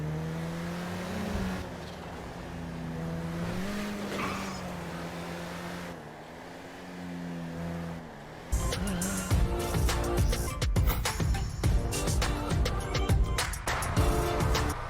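A free RH8 sports car engine in GTA Online hums steadily at a low idle, then bursts into a loud, harsh revving roar that stays up close for the rest of the clip.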